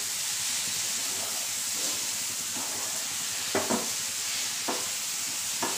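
Chopped onion sautés in a pan while egg biryani is being made, giving a steady hiss of frying with a few sharp stirring clinks toward the end and no talking.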